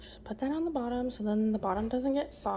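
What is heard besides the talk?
None of the usual background noises is heard.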